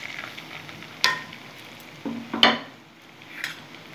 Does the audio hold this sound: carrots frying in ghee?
yes